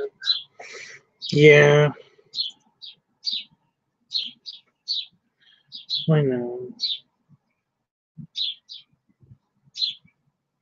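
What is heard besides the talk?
birds chirping loudly outside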